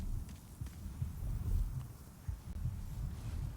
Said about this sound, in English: Okay, so it sounds like a heartbeat.